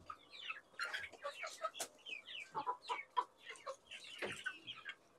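Desi chickens eating moringa leaves and green grass give a run of short, close clucks and chirps in irregular bursts, with pecking sounds between them and no talk.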